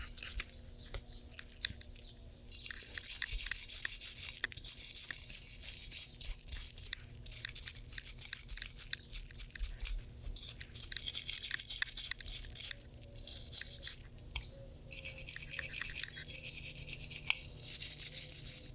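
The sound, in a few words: nylon toothbrush scrubbing H&K VP9CC pistol magazine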